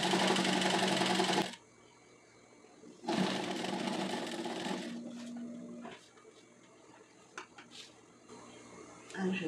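A sewing machine runs in two sustained loud bursts while stitching a patchwork rug made from fabric strips, separated by quieter stretches with light handling clicks and taps.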